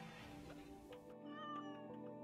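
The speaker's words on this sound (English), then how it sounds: "Meow!" In the video game RimWorld, a cat meows in several short, close cries over steady game music and ambient noise, with no speech.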